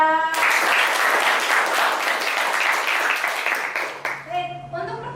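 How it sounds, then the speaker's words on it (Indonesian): A classroom of students gives a round of applause for a classmate, brisk clapping that fills most of the moment before fading out as a voice begins speaking. "Oke, tepuk tangan untuk Bila"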